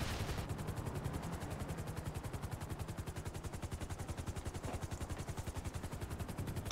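A helicopter in Grand Theft Auto V gives off a steady, rapid rotor thump that chops evenly for the whole stretch over a dense engine whine. It is fairly quiet and constant, and no one speaks.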